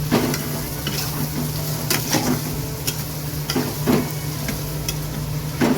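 Grated ingredients and green chili fry in a pan, a steady close sizzle punctuated by repeated sharp clicks and scrapes of a utensil stirring against the pan.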